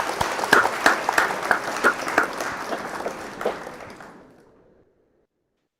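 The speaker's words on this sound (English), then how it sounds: "A round of applause, please" Steady applause from a modest audience at an awards and closing ceremony, with a few distinct claps standing out, fading gradually into silence.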